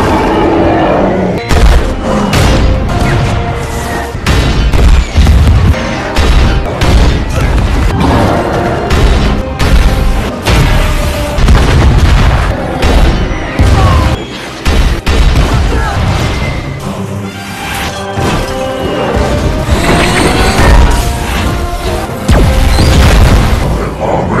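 Dense, loud booms and crashing blasts pile up continuously, like heavy cannon fire and explosions in a chaotic battle mix.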